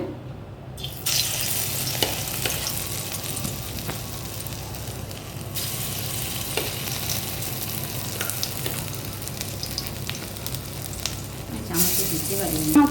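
Small dollops of gima shak fritter batter fry in oil in a kadai with a loud, continuous bubbling sizzle and occasional spoon clinks, with no pause throughout.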